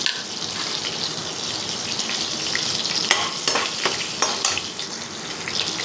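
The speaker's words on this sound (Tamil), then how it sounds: "வெண்ணெய் கரைஞ்சி எண்ணெய் சூடாயிட்டு கொஞ்சோண்டு ஜீரகம் போட்டுக்கிறேன்" Cumin seeds sputter in hot melted butter and oil, a loud, dense sizzle close by with sharp crackles and pops bursting through repeatedly toward the end; no speech.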